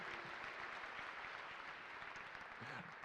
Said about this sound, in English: So give yourselves one more huge round of applause, everybody.